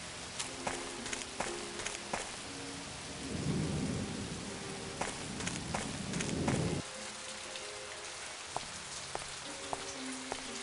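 Thunderstorm with steady rain pattering on surfaces, scattered sharp drips, and low rolling thunder swelling for several seconds before cutting off, all without speech.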